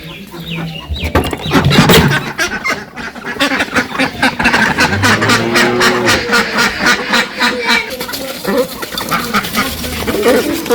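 Ducks quack loudly and repeatedly on a village farm, close by, with overlapping calls and some clucking fowl mixed in across the whole stretch.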